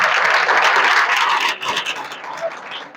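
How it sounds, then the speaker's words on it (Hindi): Audience applause at a public talk on environmental protection in Colonelganj, Gonda, dense and steady for about a second and a half, then thinning into scattered fading claps. "अरे हर बात पे ताली नहीं बजाई जाती है"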